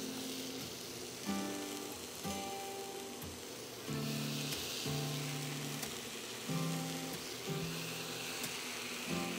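Asparagus spears sizzle and crackle in a hot pan with cooked shallots and garlic, a steady close frying hiss with soft pops and bursts as spears are added and shifted, no talking.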